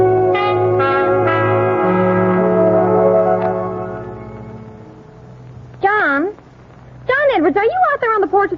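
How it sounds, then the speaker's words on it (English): Resonant bell tones chiming several times in a 1940 radio drama, ringing and fading out, followed by a pause and then warbling voices with strong vibrato. "let's ring Mr. Edwards' bell first"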